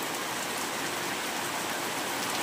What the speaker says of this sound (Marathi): जोरदार पाऊस आला.